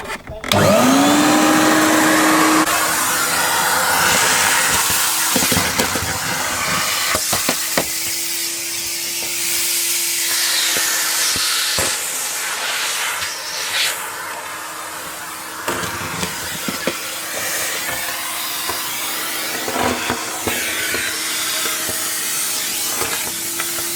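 A Numatic vacuum cleaner fitted with a new hose runs steadily throughout, a loud continuous whine and airy rush with a spin-up at the start and occasional knocks as debris is sucked up during damp-repair cleanup.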